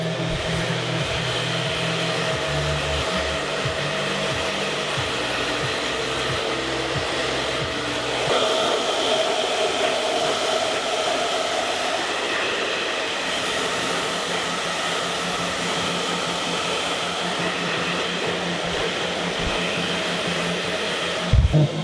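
A hair dryer blows continuously on a man's short fade haircut, a loud steady close whoosh with slight shifts in pitch as it moves around the head.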